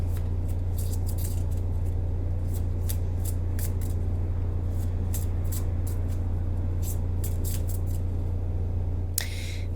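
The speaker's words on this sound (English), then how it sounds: "I shuffle until Spirit tells me to stop." Lenormand cards are shuffled by hand in a quick, uneven series of soft flicks and slaps. The close card noise sits over a constant low hum, with one louder rustle near the end.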